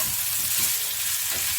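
Potatoes and onions frying on a home grill, a continuous hissing sizzle, close and even, with no voices over it.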